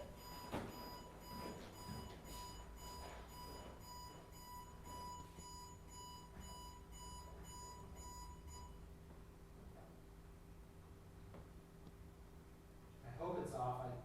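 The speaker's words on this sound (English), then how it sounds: "No, like an alarm clock." An alarm clock rings indoors with a steady beeping tone that holds for about nine seconds and then stops, while people talk over it and a louder burst of voices comes near the end.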